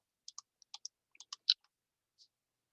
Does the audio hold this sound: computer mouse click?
yes